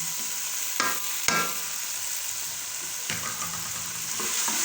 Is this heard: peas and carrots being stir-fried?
yes